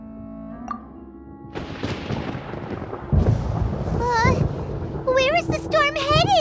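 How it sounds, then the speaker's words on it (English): Thunder in the video game Genshin Impact, a broad rumbling roll building after a quiet start, with a high, childlike voice talking over the latter part. "Paimon hears thunder!"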